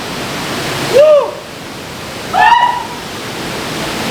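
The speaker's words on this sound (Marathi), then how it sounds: "हे बघा समोर धबधबा आहे बघा बाहेरच्या साईडला धबधबा आहे" Thoseghar waterfall in Satara roars as a steady, even wash of noise, heard from a cave right behind the falling water, with two short high whines rising above it.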